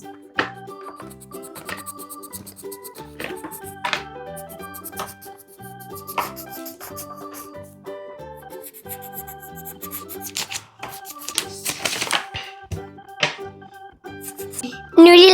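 Crayons from a Marvel Avengers art case scratch and rub across paper in short, uneven strokes, soft and close, under light background music.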